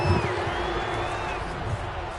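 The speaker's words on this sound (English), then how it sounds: "Plenty of shouts from this crowd as they watch the replay" A stadium crowd in Madden 23 shouts and cheers while a replay plays, a dense, loud roar with whoops rising above it. Speech-like voices also run through the noise.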